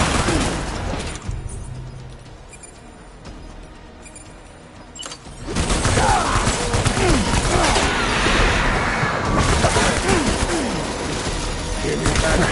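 Rapid bursts of gunfire in Death Stranding erupt after a quieter stretch, loud and sustained for the last half, with a voice shouting briefly over the shooting.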